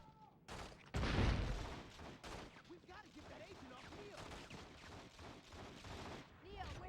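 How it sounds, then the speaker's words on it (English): Gunfire in The Matrix: Path of Neo, rapid bursts of game shots layered with effects as the character dodges bullets, a loud burst near the start then continuing busy action beneath a talking voice. "He's shooting me while dodging bullets."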